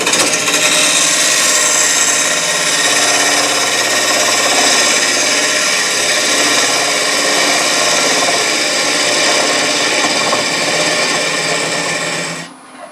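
Green cherry burl bowl blank being rough turned on a wood lathe, a steady, loud scraping and rasping of the gouge cutting wet wood with a constant whir that runs unbroken before cutting off abruptly at the end.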